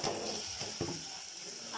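Tomatoes, green chilies and spices frying in a pan for dal mash make a steady, dense sizzle throughout, close up and moderately quiet, with a couple of soft stirring scrapes.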